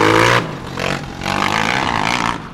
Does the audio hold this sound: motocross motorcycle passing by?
yes